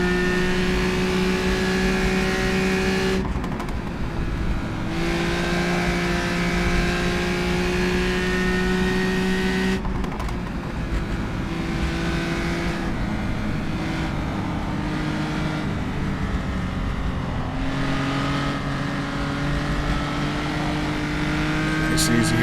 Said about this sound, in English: You hear all the cars coming down the hill back there.